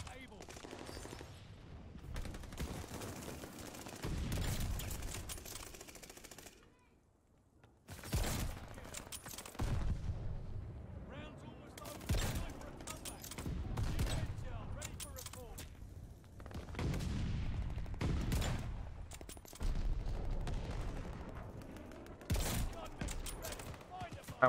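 Bursts of video game gunfire from a sniper rifle match, several quick shots in clusters separated by short pauses, at moderate volume with a player talking in between.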